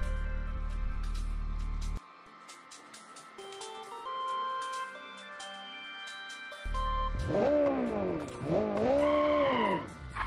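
Car engine in the BeamNG driving game revving as it is thrown down a hill, a droning tone that drops away midway, then returns with sharp rising and falling squealing sweeps, fairly quiet with no talk.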